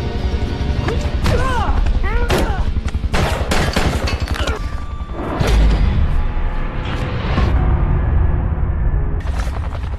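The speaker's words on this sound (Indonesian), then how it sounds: "Bodini akan menembak Phil." Gunfire in the action film Homefront rings out among loud crashes, impacts and thuds, with several sharp shots in quick succession amid a dense, busy film soundtrack.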